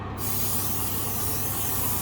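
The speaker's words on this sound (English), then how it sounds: "We're just gonna add a bit of spray on top so they don't get too burnt." Cooking spray hisses steadily from a can over vegetarian balls in an oven tray, one continuous close spray burst lasting a couple of seconds.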